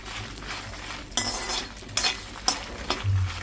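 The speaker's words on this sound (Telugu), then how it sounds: "ఒక చిన్న ఎల్లిపాయ గడ్డ వేసిన నేను ఇలా కొంచెం ఆయిల్లో వేగితే ఫ్లేవర్ మంచిగా వస్తుంది" A small head of garlic cooking in a little oil for a drumstick-leaf chilli powder, with steady soft sizzling broken by several sharp scrapes and clinks of a utensil stirring the pan.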